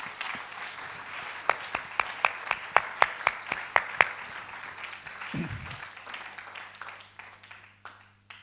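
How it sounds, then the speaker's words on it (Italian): An indoor audience claps in a loud burst of applause with some rhythmic unison claps, then fades out over several seconds. "E adesso ne fate uno più forte di applauso per voi stessi"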